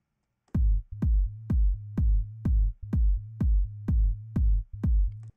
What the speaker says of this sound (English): So there's our groove so far.